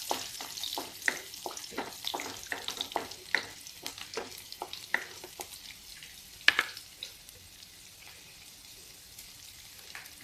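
Large chunks of garlic frying in a pan for a sweet-and-sour pickle, sizzling steadily while being stirred, with repeated scraping strokes and one sharp clink, close and alone with no talk.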